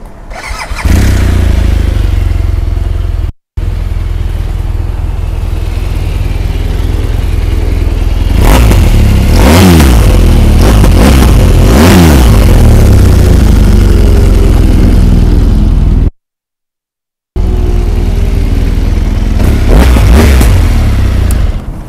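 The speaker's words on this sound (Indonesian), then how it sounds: "Mari kita cuba start tengok ini BMW GSA bunyi dia macam mana." A 2015 BMW R1200GS Adventure LC motorcycle with 96,000 on the clock and a full service behind it starts up loud and close, then idles with a throbbing boxer rumble and is revved in repeated rising and falling bursts, with two brief gaps.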